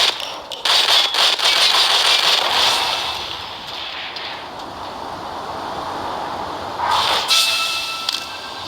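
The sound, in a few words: exploding barrel in zombie video game Left to Survive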